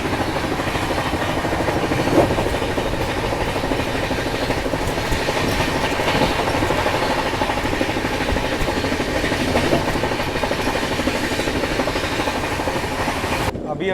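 The Rapti Sagar Express runs at speed on the rails near Adoni, its loud, steady rumble and rattling wheel clatter continuous from inside the carriage.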